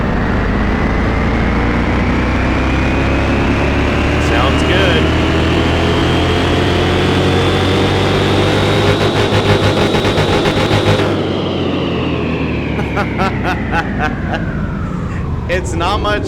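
A 707-horsepower van engine revving hard on a dyno in Car Mechanic Simulator 21, a loud sustained roar climbing steadily in pitch, then dropping off and clattering as the throttle is released.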